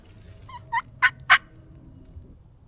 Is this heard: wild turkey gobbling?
yes